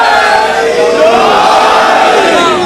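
A large crowd at a religious gathering chants slogans in unison, with loud, dense massed voices sustained steadily throughout.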